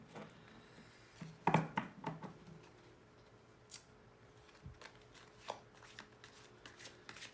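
Tarot cards being shuffled close by: a quick riffle burst, then scattered soft taps and flicks as they are handled in a quiet room.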